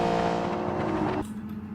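A supercharged car engine in BeamNG.drive holds a loud steady whine and drone, then drops off abruptly into a lower idle rumble.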